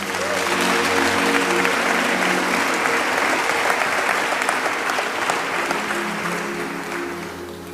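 A church congregation applauds loudly and steadily throughout, a dense crowd clapping that fades slightly toward the end.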